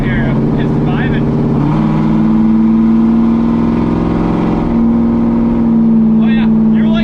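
The eight-cylinder engine of a Fox body Mustang runs at a loud, steady rumble with a slight rise in pitch partway through, close by, with brief voices at the start and end.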